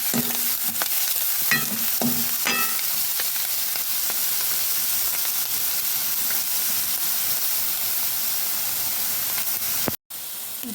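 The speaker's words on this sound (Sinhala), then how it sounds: "ඒවත් දාලා මෙහෙම හොඳට කලවම් කරගන්න." Food sizzles steadily in a frying pan for a home-cooked dinner, with a spoon scraping and stirring in a few quick strokes near the start over continuous hissing, no talking.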